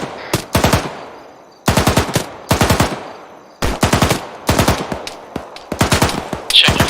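Loud, close machine-gun bursts from a section firing rapidly in a military exercise or combat setting, several sharp rattling volleys separated by brief pauses, with no talk over them.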